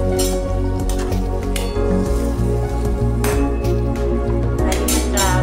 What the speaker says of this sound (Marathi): त्यानंतर मी भाजीमध्ये थोडंसं पाणी टाकले शिजण्यासाठी